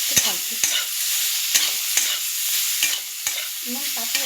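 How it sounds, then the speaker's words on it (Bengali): Fried pumpkin pieces being stirred into a taro curry in a pan, a bright steady sizzle with repeated sharp scrapes and taps of the spoon, close and without talk. "এবার ভেজে রাখা সেই কুমড়োগুলো এতে দিয়ে দিলাম, দিয়ে আবার কিছুটা নাড়তে থাকবে"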